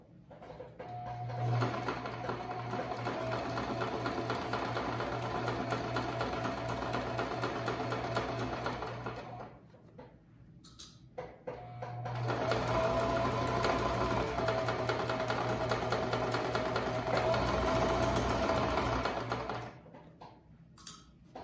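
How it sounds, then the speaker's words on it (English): A sewing machine fitted with a quarter-inch foot stitches fabric in two long steady runs, a close, even mechanical whir with a brief pause between them and no talking. "we are ready to start sewing"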